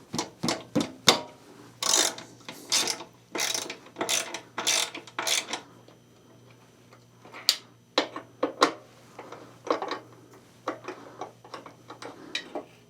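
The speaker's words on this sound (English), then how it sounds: "And then we can just remove these 2 bolts on each side." Tour pack bolts on a Harley-Davidson Road Glide loosened with a ratchet, bursts of rapid close clicking in several runs separated by short pauses, with no talking.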